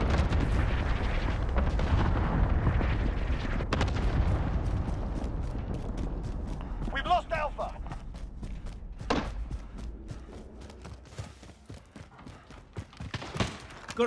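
Explosions from a cluster strike in Call of Duty: Modern Warfare, a rumbling barrage followed by scattered sharp blasts and cracks, some close and loud, with brief radio-style voices between them.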